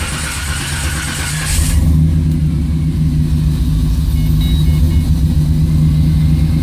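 A 1988 Pontiac Trans Am GTA V8 cold start: a brief crank and catch, then the engine settles into a loud, steady, low rumbling idle recorded up close, with no talk.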